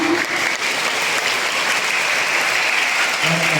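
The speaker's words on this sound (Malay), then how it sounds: "Diberi tepukan pada Ustazah" Steady applause from a crowd at an Islamic religious lecture, continuous clapping with no voices standing out.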